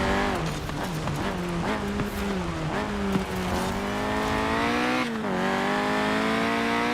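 A 1991 Peugeot 205 Rallye in Forza Horizon 4 holds a loud, continuous engine drone with pitch dips and climbs through gear changes, steady and close throughout.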